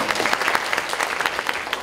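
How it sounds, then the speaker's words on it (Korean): A short burst of audience applause at a graduate talk concert, many hands clapping together briefly and evenly with no voices on top. "여러분 박수 한번 주시죠."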